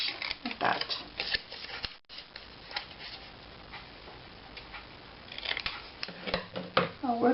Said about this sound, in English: Now here I'm just going to cut this across like that.